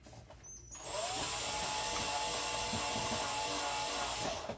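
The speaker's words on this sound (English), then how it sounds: "you could go straight down and screw it into the support post there" A power drill drives a screw into a wooden stud support post, a steady high motor whine that starts after a short pause and holds close and loud to the end, with no talk.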